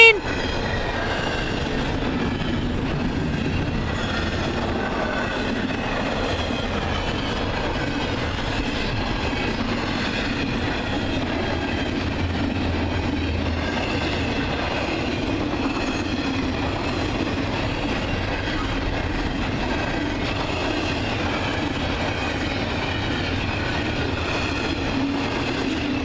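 CN freight train Q119 with locomotive 3020 rolls past at Ladysmith, a steady heavy rumble of wheels and cars with clickety-clack and faint squeal, continuous and close for the whole stretch.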